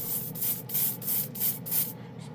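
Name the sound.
airbrush spraying chrome paint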